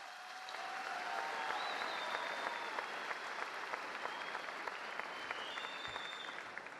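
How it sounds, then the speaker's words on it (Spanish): Sustained audience applause at an assembly of coca-growing organizations in Catatumbo, a dense steady wash of clapping from a large crowd lasting the whole stretch, fairly distant and even in loudness. "El aplauso para todas y todos ustedes por lo que han forjado."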